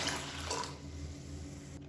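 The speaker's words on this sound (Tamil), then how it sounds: "இதில் வந்து 1/2 லிட்டர் அளவுக்கு தண்ணி சேர்த்துக்கலாம்." Water is poured into a saucepan to make a herbal kashayam; a short, close splashing pour fades after a moment into quiet.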